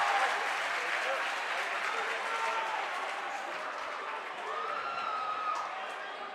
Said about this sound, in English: Both student sections standing and cheering loudly.